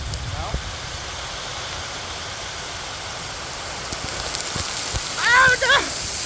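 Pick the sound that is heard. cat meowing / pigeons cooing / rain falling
rain falling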